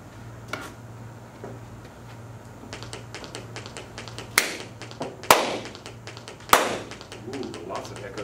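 Sharp hand claps ring out in a reverberant room during a robotics sonar demonstration, several loud isolated claps with echoes over a steady low hum and faint tapping, with speech nearby.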